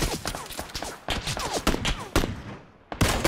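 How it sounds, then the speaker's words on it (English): Enemy gunfire in a multiplayer shooter match, rapid bursts of shots cracking repeatedly at close range, with a brief lull near the end before firing resumes loudly. "They're shooting at us though"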